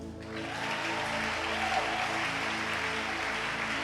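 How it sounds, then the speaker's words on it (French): An audience at a church gathering claps steadily, a dense, even applause that holds throughout at moderate distance. "Acclame pour lui."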